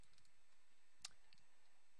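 A single faint, sharp computer mouse click sounds once amid near silence.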